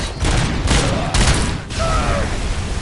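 Bursts of turret gunfire in the robot-cop shooter RoboCop: Rogue City, dense loud rattling shots filling the first half, then a rising electronic whine as the firing eases.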